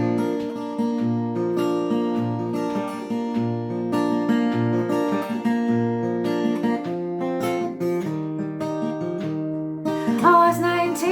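Acoustic guitar intro to a song, played live at a cabaret session: steady picked notes and ringing chords, close and clear, with no singing yet.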